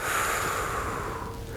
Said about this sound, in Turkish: Burnumuzdan nefes alacağız.